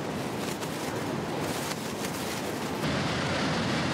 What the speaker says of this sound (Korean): 거대한 폭포의 굉음과 물보라의 위용에 기가 질린다.